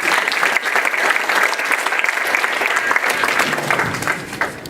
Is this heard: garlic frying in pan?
no